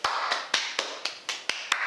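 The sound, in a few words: applause, clapping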